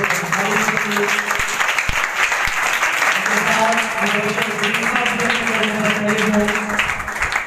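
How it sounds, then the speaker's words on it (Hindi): Loud, sustained applause from a crowd, dense clapping throughout with voices mixed in beneath it. "जोरदार तालियां बजाएंगे"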